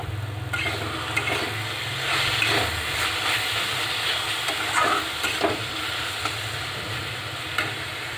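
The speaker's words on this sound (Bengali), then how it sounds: "শাকগুলো পারফেক্টভাবে ফ্রাই করা হয়ে গেছে।" Boiled helencha greens sizzle and hiss in hot oil with spice tempering, a steady broadband frying noise punctuated by stirring scrapes, close and continuous with no talking.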